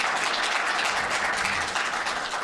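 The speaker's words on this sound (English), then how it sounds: "I think we should welcome the speakers with applause" Audience at an economics lecture applauding to welcome the speakers, a steady dense wash of clapping throughout with no pauses.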